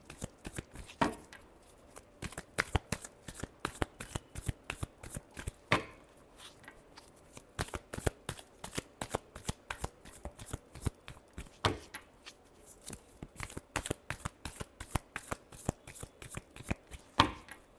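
A deck of tarot cards is shuffled up close in repeated quick riffling bursts, crisp and fairly quiet, with no other sound.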